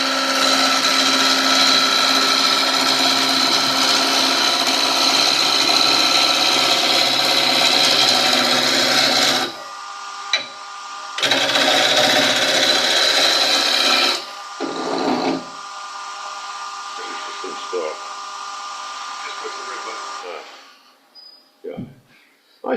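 Spindle roughing gouge cuts wood on a spinning lathe at a woodturners' club demo. The steady, loud, dense shaving roar breaks off, resumes briefly, and then winds down to quiet as the lathe stops.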